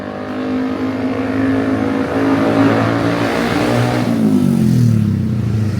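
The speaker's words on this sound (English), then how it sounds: "the fucking noise of the bike is just 24/7" Motorbikes on a busy street in Bali, engines loud and near, droning steadily as one rises and then pulls away with a falling pitch, no talk over the traffic.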